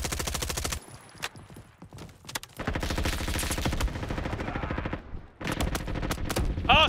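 Rapid bursts of automatic gunfire in a free-to-play first-person shooter, loud crackling volleys broken by short pauses, with sharper single shots from an enemy sniper among the repeated firing.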